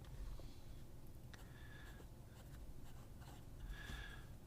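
A Pelican fountain pen with a 14-karat medium nib scratches softly across paper in short strokes with brief pauses, faint and very close, with a quiet room hiss underneath and no speech.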